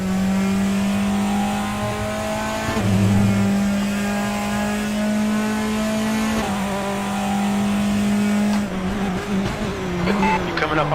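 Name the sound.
race car engine in racing video game RaceRoom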